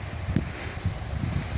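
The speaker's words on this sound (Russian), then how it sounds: "И ветер-то такой огромный." Strong storm wind on a small island batters the microphone in low, uneven gusts, a close, buffeting roar with no voices.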